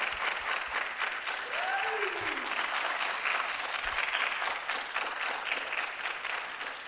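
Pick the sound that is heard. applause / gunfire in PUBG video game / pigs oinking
applause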